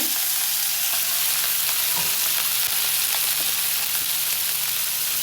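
Prawns fry in hot oil in a wok, giving a loud, continuous close-up sizzle with faint crackles and stirring, and no talking.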